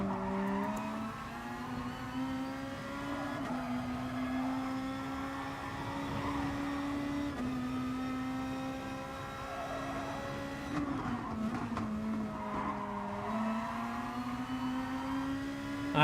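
Race cars lap in Gran Turismo Sport, with a steady engine drone that rises and falls through gear changes and corners, and occasional tire noise.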